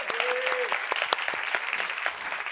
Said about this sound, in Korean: 우리 크게 주님께 박수하십시다.